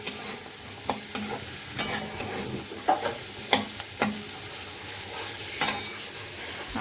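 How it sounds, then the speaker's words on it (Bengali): Jackfruit seeds fry in a pan with a constant soft sizzle, broken by sharp stirring scrapes at irregular intervals. "এবার হচ্ছে কাঁঠালের বিচি, এটা ভেজে নিচ্ছি"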